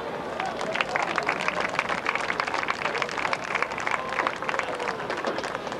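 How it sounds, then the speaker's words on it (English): Spectators at a 2001 Du Quoin vs Murphysboro high school football game applaud senior football players, cross country runners, golfers and cheerleaders. The clapping is dense and continuous throughout, with a faint murmur of voices underneath. "Let's have a nice round of applause for our senior football players, cross country runners, golfers, and cheerleaders"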